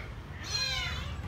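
A rescued kitten gives one clear, rising-and-falling meow near the middle, close by and moderately loud over a faint background murmur.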